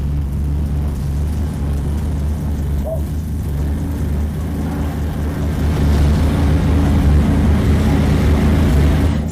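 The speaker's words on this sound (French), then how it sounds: "Ça, c'est un moteur." A motorcycle engine idling after starting, a loud, steady low rumble with constant throbbing that swells slightly near the end, close by and with no speech over it.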